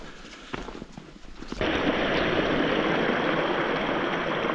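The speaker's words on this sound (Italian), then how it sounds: "Bellissimo questo ruscello." A mountain stream on the Asiago plateau, its water rushing in a loud, steady broadband wash that takes over after a couple of seconds of quieter outdoor sound with a few knocks.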